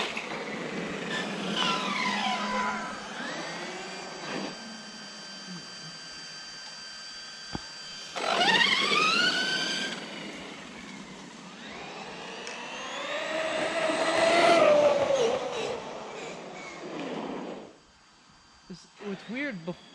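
An Arrma Outcast 4S V2 RC car's electric motor whines in rising and falling bursts as it is driven several times, loud high-pitched revs separated by quieter gaps.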